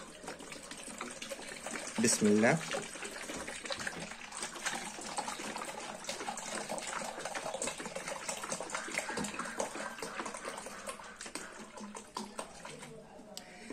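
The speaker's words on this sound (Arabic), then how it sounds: "أول حاجة معانا إن احنا ننزل بتلتين الكمية مية." Water pours steadily from a tap into a container while a soap-style degreaser is made, a continuous close gushing splash with someone speaking briefly over it.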